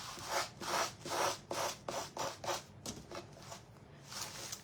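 Sander working over a wooden stenciled sign, a series of soft rhythmic rasping strokes, close and fairly quiet, with no talking.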